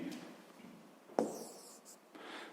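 Pen writing coordinates on paper for a sixth-grade maths exercise, a few quiet close scratchy strokes with one sharper tap, faint and alone.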